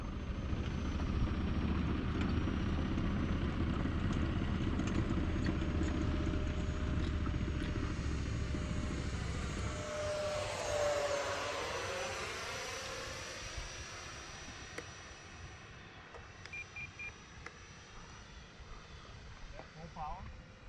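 An FMS Rafale 64mm electric ducted fan model jet flies over a grass field at about 70% throttle, a steady whooshing whine that swells and sweeps down in pitch as it passes, then fades into the distance.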